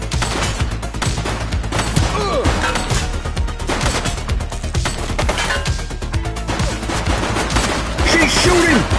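Rapid bursts of gunfire in the police video game The Precinct, a dense chaotic barrage of shots and crashes running throughout, loud and close, with voices calling out in between.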